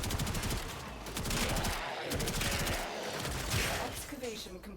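Gunfire from a toxin-modded gun in the video game Warframe rattles on continuously in fast repeating bursts, fairly quiet and mixed with game effects and someone talking over it.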